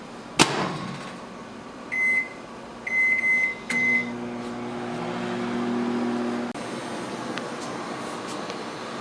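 A microwave oven starts with a sharp click, gives three short beeps, then hums steadily as it runs, a low drone with a faint rising tone, close and moderately loud in a quiet room.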